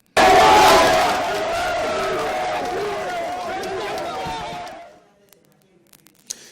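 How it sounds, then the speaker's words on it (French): A large outdoor crowd roars with shouts, cheers and chanting as the head of state departs after voting in municipal elections, loud and dense at first, holding steady, then fading to near silence. "Le chef de l'État prendra enfin congé de ces populations sous des applaudissements de cris et des slogans à son avantage."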